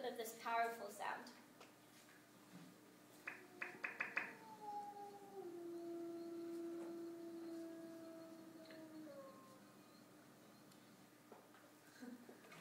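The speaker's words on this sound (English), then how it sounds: "the howl can also communicate that a hunt is about to take place or that a kill has been made" A wolf howl, a long drawn-out call that slides slowly downward in pitch. Shorter yelping calls come before it, all faint and heard from a distance.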